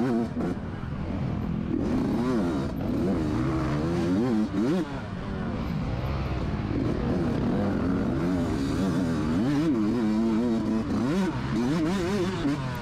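A dirt bike engine at a 2021 NCHSA harescramble race at Shane's Farm revs hard and continuously, the pitch rising and falling with each throttle change, loud and close as if from the rider's helmet camera.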